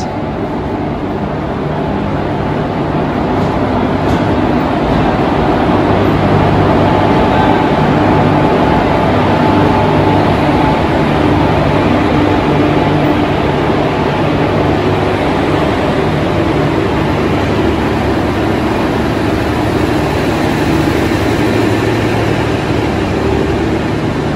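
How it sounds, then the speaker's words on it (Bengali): The 13149 Up Kanchankanya Express enters the station with a loud, steady, low rumble that holds for over twenty seconds without letting up. "স্টেশনে ঢুকছে 13149 আপ কাঞ্চনকন্যা এক্সপ্রেস।"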